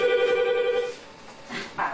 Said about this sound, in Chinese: 爸的电话来了。